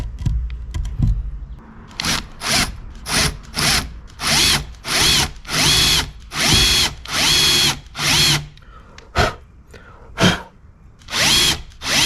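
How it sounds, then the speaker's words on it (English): A power drill bores into a testing brick in repeated loud, close bursts of about half a second each, with whining pulses separated by brief pauses and the rhythm tightening midway. "I use a testing brick just to test the drill bit"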